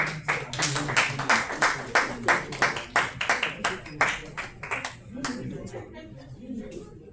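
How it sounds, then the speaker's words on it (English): A tech event audience claps in a steady rhythmic beat to welcome panel speakers, regular sharp claps repeating roughly twice a second before tapering off into quieter room sound. "Please, can we clap for them?"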